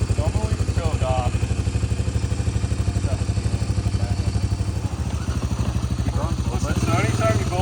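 A two-stroke CR500 engine fitted in an ATC250R trike runs with a loud, rapid, rumbling exhaust pulse that stays close and steady throughout, with people talking faintly over it.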